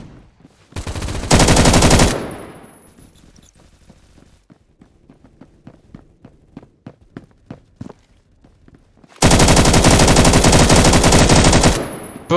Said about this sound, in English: Bro, this LMG is so overpowered.